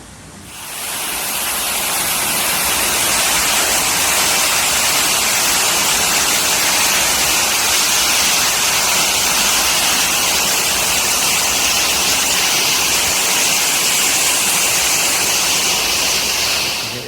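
A steady, loud hiss of steam fills a spa steam room on the Cunard ship Queen Victoria continuously, broad and unbroken, with no voices.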